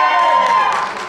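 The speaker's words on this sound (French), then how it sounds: "Hey, ça c'était une foule." A large crowd cheers and claps in a sustained wash of voices and applause, loud and close, with a shouted voice riding on top before the noise starts to thin.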